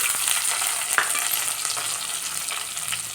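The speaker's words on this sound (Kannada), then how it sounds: "ಕಲರ್ಗೋಸ್ಕರ ಬ್ಯಾಡಗೆ ಮೆಣಸಿನ್ಕಾಯಿ ಒಗ್ಗರಣೆಗೆ" Steady, bright sizzling of tempering spices with Byadgi chilies frying in hot oil for sambar, continuous and close, with a small clink near the start and no voices.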